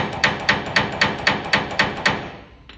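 A hammer taps new wheel studs through the back of a trailer hub during a wheel bearing change, eight sharp, evenly spaced metallic blows ringing close by, then stopping.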